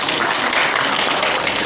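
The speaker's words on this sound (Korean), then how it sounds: "자, 여러분 박수 부탁드리겠습니다" An audience applauds at a charity coal-briquette donation event, a brief burst of dense, even clapping from a crowd indoors, with no voices heard.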